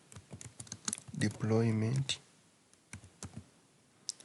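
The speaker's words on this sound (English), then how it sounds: "So after typing Office deployment tool" Quick, light computer keyboard clicks tap out in short bursts before and after a spoken word, close and fairly quiet, as a search is typed into a browser.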